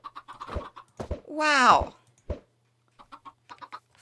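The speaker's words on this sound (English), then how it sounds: "Five chickens." One drawn-out chicken cluck from a Minecraft game stands out amid short game sounds, with someone speaking briefly near the start.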